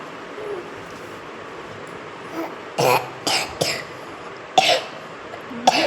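A sick young girl coughs close by: a few short, separate coughs come in a loose cluster, then one more after a pause, over a quiet room.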